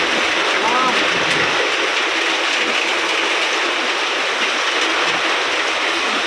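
Heavy monsoon rain pours steadily around a house, a dense continuous hiss with no breaks, while a voice talks faintly underneath.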